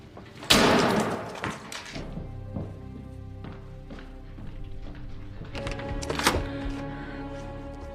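A door is handled in a quiet room: a sharp slam near the start, then a series of soft knocks, clicks and thuds from the latch and lock, with a faint steady hum underneath and a second clattering burst of handling later on.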